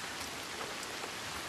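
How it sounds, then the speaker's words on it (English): Steady, dense rainfall in the video game Senua's Saga: Hellblade 2, a continuous hiss of drops on surfaces at even loudness throughout, with no voices. "The rain never stops."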